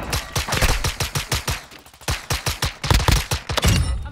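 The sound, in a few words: pistol gunfire in video game Call of Duty MW2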